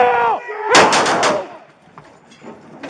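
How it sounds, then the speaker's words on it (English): Police firing gunshots during a bodycam-recorded confrontation with a man holding a BB gun, a rapid burst of several loud close bangs after a brief shout, followed by fading echo and noise. "Shots fired."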